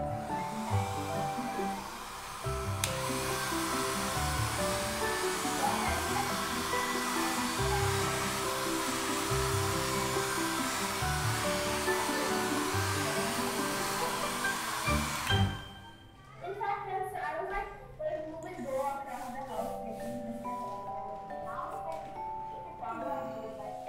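A hair dryer blows steadily to dry a brush-pen and fountain-pen ink drawing of a dog's face, a loud continuous whoosh for about fifteen seconds that then cuts off, leaving quieter room sounds.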